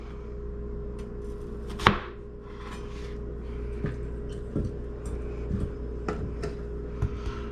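A knife cuts an onion into quarters on a cutting board, one sharp thunk followed by a string of softer, irregular taps and knocks, close and fairly quiet with no speech.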